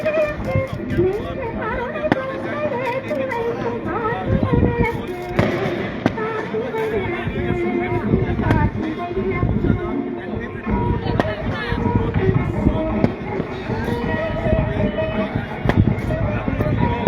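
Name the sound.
firecrackers bursting at Thiruparankundram temple Karthigai festival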